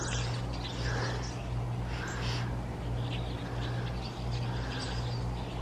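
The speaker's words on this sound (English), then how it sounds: "Oh, some crazy bird action in our yard." Birds in a suburban yard chirp and call in scattered bursts over a steady low outdoor hum, with no clear single voice standing out.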